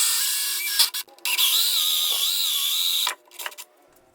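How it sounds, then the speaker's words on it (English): A 2-inch hole saw cuts through a subwoofer enclosure with a steady high whine for about three seconds, briefly interrupted near the start, then stops with a few short scraping bursts. "So let's go ahead and drill that hole."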